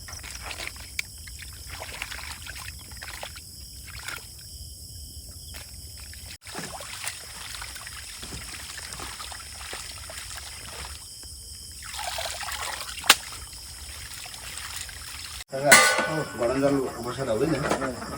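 Water poured over snakehead fish to wash them, a soft trickling splash running steadily with small drips and a louder burst of splashing near the end, faint and fairly close.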